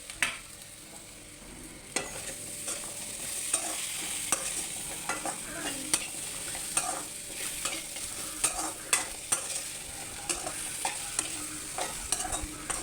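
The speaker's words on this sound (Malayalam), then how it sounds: "അരിഞ്ഞു വെച്ചിരിക്കുന്ന ചക്കപ്പൂഞ്ഞ് പിന്നെ ചക്കക്കുരു ഇതും കൂടി ഇതിനകത്തോട്ടിട്ട് ഒന്ന് വഴറ്റിയെടുക്കും" Chopped jackfruit flower and jackfruit seeds sauté in a pan with a soft, continuous sizzle, broken by frequent scraping and clicking strokes of a stirring spoon, all close and moderately quiet.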